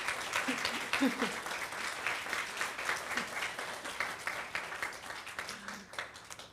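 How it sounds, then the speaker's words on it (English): A congregation at a Unitarian Universalist Sunday service gives a thank-you round of applause to visiting photographers, sustained, evenly dense clapping from many people, moderately distant, with a brief voice heard early on. "we will give them a thank you applause for sharing their art"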